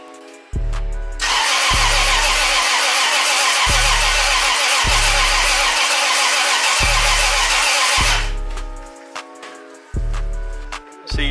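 A Toyota 7M engine, freshly fitted with a new head gasket, cranks over loudly and steadily for about seven seconds, then stops. A low, repeating tonal pattern runs underneath throughout, and no one speaks.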